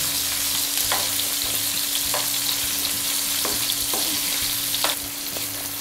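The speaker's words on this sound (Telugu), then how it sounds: "కాకరకాయని ఇలా మధ్య మధ్యలో కలుపుకుంటూ ఉండాలి. ఇలా కలుపుకోవడం వల్ల అన్ని వైపులా చక్కగా వేగుతాయి" Stuffed bitter gourd fries in a pan with a steady, close sizzle, punctuated by regular scraping strokes as it is stirred, with a low hum underneath and no voices.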